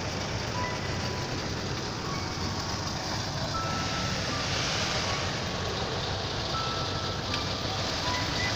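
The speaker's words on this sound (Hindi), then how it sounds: "अभी उन लोगों को रिकवरी करने के लिए गाड़ी आ गए हैं" A recovery vehicle arrives at a roadside accident where a vehicle has fallen into a ravine. Its reversing beeps repeat over a steady rumble of engine and outdoor noise, with no voices.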